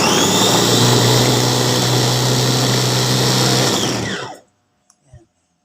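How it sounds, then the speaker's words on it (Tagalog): A blender whirs loudly and steadily for about four seconds blending kimchi ingredients, then winds down to silence, followed by a couple of faint clicks. "Ito na po yung atin i-blender."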